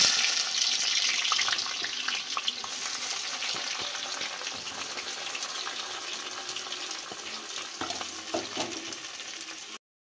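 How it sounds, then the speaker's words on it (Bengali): Chopped onion with cumin and a pinch of sugar frying in hot oil for mutton curry gives a steady, close, bright sizzle throughout, with faint stirring taps near the end before it cuts off, and no speech. "পেঁয়াজটা ভালো করে ভেজে নিয়েছি।"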